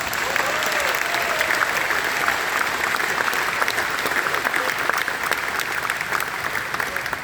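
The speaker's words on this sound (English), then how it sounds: "can we give them a round of applause?" A crowd at a men's Christian conference claps steadily and loudly throughout, a dense even wash of applause with no pauses.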